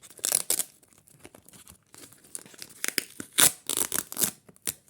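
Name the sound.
peeling open a paper packet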